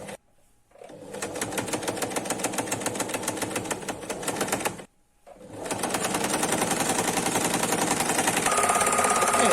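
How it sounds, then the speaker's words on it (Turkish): A sewing machine stitching a vest runs in two long continuous rapid mechanical bursts, separated by a brief pause, close and steady. "Evet şimdi makinamda dikiyorum."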